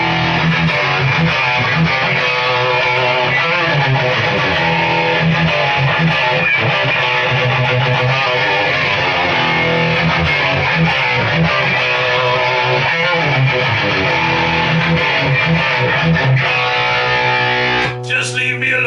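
A heavily distorted electric guitar played through a pedalboard with high-gain distortion plays a sustained metal riff with thick, saturated tone, loud and continuous throughout.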